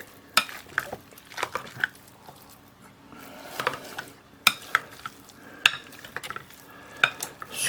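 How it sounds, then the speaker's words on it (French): Potatoes are mashed with butter for pommes duchesse, giving close, irregular scraping, squelching and knocks of a utensil against the pot, with no talk. "Je fais ça 1 minute jusqu'à ce que je sois sûr que tout le beurre est mélangé."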